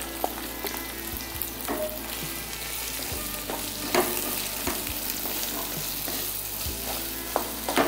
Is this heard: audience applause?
no